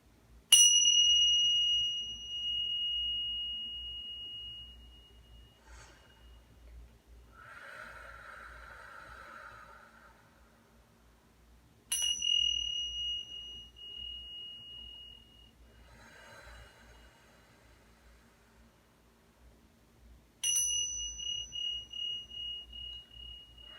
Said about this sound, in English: So I'm going to tap the bells 4 times.